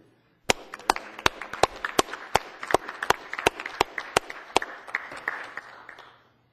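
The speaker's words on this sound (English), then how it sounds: "I think we need to give the committee a round of applause from the dais already." Applause from a small group at a city council meeting, with sharp individual claps standing out over a steady patter that lasts about six seconds before fading away.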